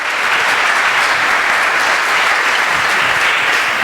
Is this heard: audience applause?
yes